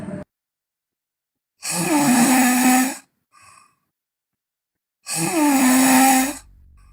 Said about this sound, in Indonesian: Ngorok.